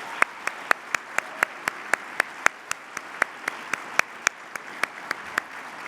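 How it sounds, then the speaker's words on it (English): Audience at a student veterans' honors awards luncheon claps for leadership fellows; sharp, evenly spaced claps sound close and distinct over a soft room hum, steady for about six seconds. "Let's give a round of applause to the SVA Leadership Fellows."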